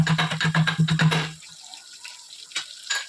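Water poured from a glass into a pot of vegetable biryani, a gurgling splashing pour for about a second and a half, then quiet clinks and small kitchen sounds.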